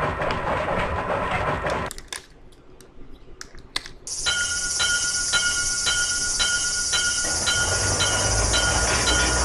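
Rumbling, clattering video game train noise from Chulip with rhythmic wheel clicks and a bright metallic hiss, steady and loud after a brief quieter stretch with tapping.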